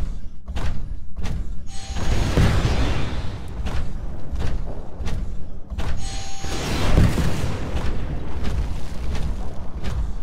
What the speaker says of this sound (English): Move down the hallway while avoiding the rockets.